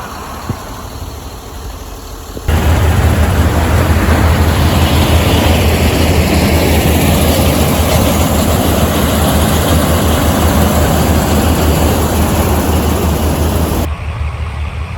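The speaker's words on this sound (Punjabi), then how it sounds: "ਉਹ ਆ ਗਈ ਕੰਬਾਈਨ" A heavy combine harvester engine starts up loudly for a maize harvest and holds a steady, droning roar close by, with a quieter hum before it kicks in.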